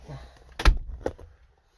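A classic car's door swings shut with a single solid thud, near and fairly loud, followed by a short rattle and then quiet.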